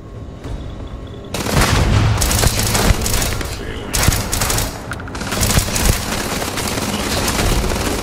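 Repeated grenade blasts and gunfire in the sci-fi shooter game Starfield, a dense, loud barrage of booms and crackling shots that keeps up almost without a break, with a voice talking over the chaos.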